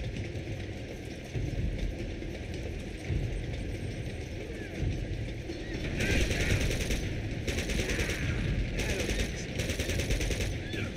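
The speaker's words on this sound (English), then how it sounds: "Oh, is that a machine gun at the back?" Sustained rapid machine gun fire in the Uncharted 2 action game, a dense rattling barrage that runs continuously and grows harsher and louder in its second half.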